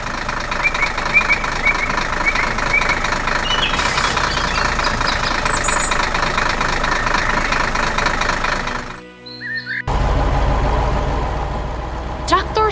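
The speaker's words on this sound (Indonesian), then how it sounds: "Traktor merah sedang mengebor tanah di hutan, membuat lubang besar di bawah tanah." A red tractor drills into the ground in a forest, its engine chugging in a steady, loud mechanical drone that breaks off for a moment, then resumes just as strongly.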